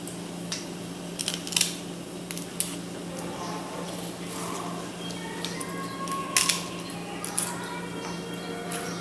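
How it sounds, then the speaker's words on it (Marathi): Fresh homegrown drumstick pods being cut into small pieces, a series of crisp, close snipping clicks at an irregular pace over a steady low hum. "शेवग्याच्या शेंगा अशा कापून घेते."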